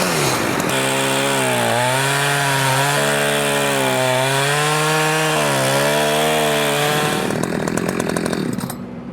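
Chainsaw cutting the end off a piece of wood on a farm, a loud steady engine whine that rises and dips in pitch as the chain bites, then cuts off toward the end.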